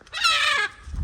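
A seagull calls during an attack, a single loud, close, harsh squawk lasting about half a second, then a brief low rustle.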